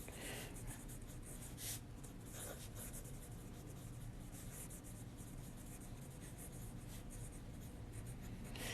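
A pen scratches across paper in quiet, continuous strokes at close range, with faint scribbling texture over a steady low background hum and no voices.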